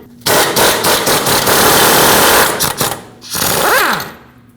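An impact wrench with a 22mm socket rattles loudly on a mounting nut at a 2005-2021 Nissan Frontier 2WD lower control arm, a long hammering burst, a short pause, then a second burst that winds down.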